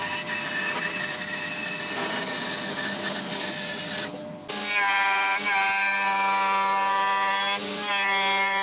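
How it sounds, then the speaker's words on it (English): A bandsaw cuts through wood for an electric guitar body, a steady loud whirring drone that shifts pitch partway through as the blade load changes, with no talking. "And I'm going to even quicker bandsaw it out."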